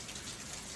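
Heavy rain pours down steadily in an overnight downpour, a dense, even hiss with no breaks through the short stretch, loud and continuous with no voices.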